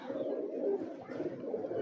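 Pigeons coo in low, throaty, rolling murmurs, close by and continuous, with no talk over them.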